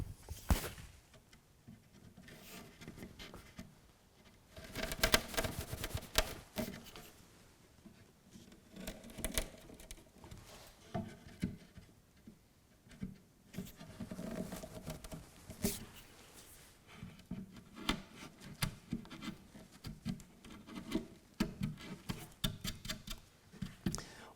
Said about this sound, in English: So I'm just going to do that with a chisel.